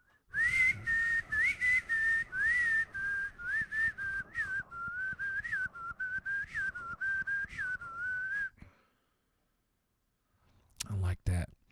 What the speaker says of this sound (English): But I like whistling in life.